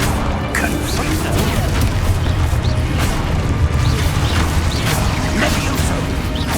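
Confringo blast spells in the Hogwarts Legacy video game go off as repeated crashing, booming impacts amid a busy, loud battle, with whooshes and debris layered over a constant low rumble.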